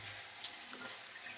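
Water draining off soaked soybeans in a home kitchen, a faint, steady trickle and splash running without pause and with no talking.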